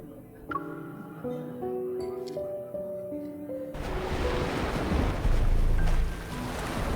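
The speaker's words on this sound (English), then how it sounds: "Waves roll in, and the water rises past our ankles." Waves roll in on a beach in the video game Love and Deepspace, a broad surging rush of surf that swells in after a soft musical opening and stays loud and close.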